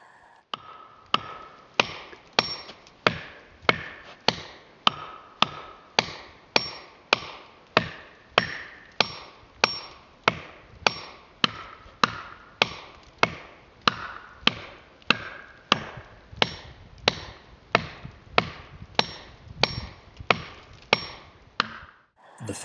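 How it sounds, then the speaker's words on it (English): Aluminum and plastic wedges are hammered into a saw kerf in a downed oak under heavy top bind, a long, steady series of about forty sharp, ringing strikes at a regular pace with no one speaking. "an aluminum wedge is used between the plastic wedges to help force the kerf open"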